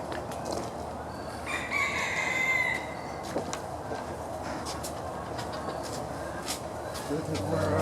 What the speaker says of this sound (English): The chicken yards with all the motley chickens.